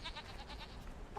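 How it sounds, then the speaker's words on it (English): A goat bleats in a quick run of wavering, nasal cries, close and fairly loud, with no talk over it. "I hear the goat."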